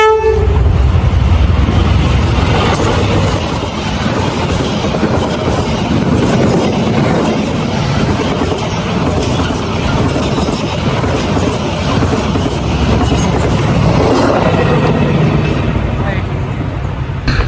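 A freight train passes near Kampung Keramat in rural Grobogan, its loud, continuous rumble of wheels and wagons filling the air from start to finish, with horn tones near the beginning.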